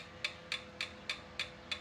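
Six faint, evenly spaced metallic ticks sound in a slow, regular rhythm as a valve taps against a feeler gauge during a clearance check on a Triumph T140V motorcycle engine at top dead center.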